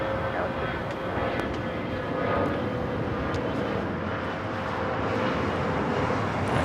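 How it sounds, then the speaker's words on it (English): An Eva Air Cargo Boeing 777 freighter takes off at Los Angeles airport, its jet engines making a broad, steady roar that swells slightly at a distance under continuous outdoor noise. "as soon as that 777 freighter takes off"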